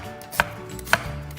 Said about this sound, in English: Give that a quick chop.